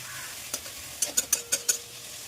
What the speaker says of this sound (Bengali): শাকটা ভাজা ভাজা হয়ে গেছে, তারপর বেগুনটা দিয়ে আরেকটু ভাজা ভাজা করে নিলাম।